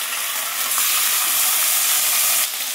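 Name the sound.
rice frying lightly in pan for navratna pulao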